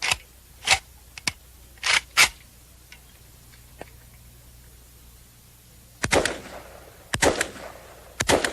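Semi-automatic rifle firing single rounds, one trigger pull per shot: loud, sharp reports spaced irregularly, a few quick pairs early, then a pause before more shots near the end, alone without talk.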